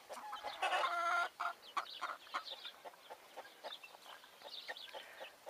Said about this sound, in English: we've got two roosters and two hens out of the chicks